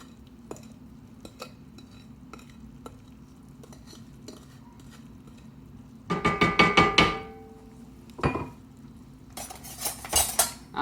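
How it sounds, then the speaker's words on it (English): A rubber spatula scraping undissolved sugar from a bowl onto beef for Korean beef: quiet scattered ticks and scrapes, then bursts of louder clattering and knocking of utensil against bowl, close and intermittent. "Using a rubber spatula like this is always a good idea to help to get the rest of the sugar that did not dissolve out of the bottom of the bowl."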